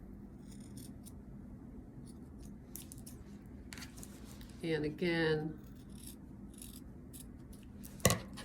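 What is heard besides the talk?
scissors nipping off fabric corners of a quilted placemat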